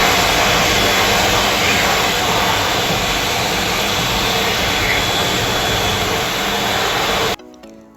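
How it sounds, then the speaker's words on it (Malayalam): A hand dryer in the toilet of a Vande Bharat train blows with a loud, steady, close roar that holds for several seconds before cutting off abruptly near the end. "പിന്നെ കൈ കഴുകുന്നിടത്തൊരു ഹാൻഡ് വാഷ് ഉണ്ടായിരുന്നു, അതുപോലെ തന്നെ നമുക്ക് ഡ്രയറും ഉണ്ടായിരുന്നു കേട്ടോ"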